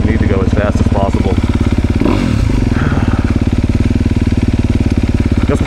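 A dirt bike's engine and loud exhaust drone continuously up close, a dense rapid pulsing that stays strong throughout while a rider talks faintly underneath it.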